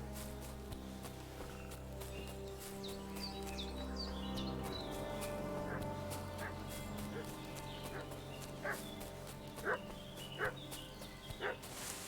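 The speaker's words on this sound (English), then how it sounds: "What's that dog making such a fuss about?" A dog barks in the medieval village setting of Kingdom Come: Deliverance II: faint, distant barks rising above a busy ambient bed of birdsong and low hum, with a few clearer sharp yaps near the end.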